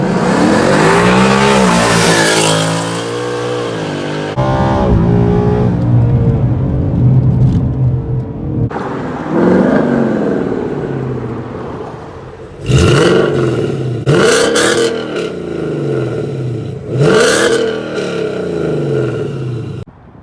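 A modified 2018 Ford Mustang GT Performance Package 1 with a cold air intake and tune roars through hard accelerating pulls. The loud V8 engine revs climb steadily, then gear shifts and sharp rev bursts follow near the end.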